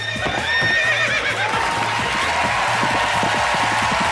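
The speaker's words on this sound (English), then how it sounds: "Giddy up, Lightning, go" On a TV talk show stage, a horse sound effect whinnies loudly, then rhythmic galloping hooves clop on, with a faint crowd murmur beneath.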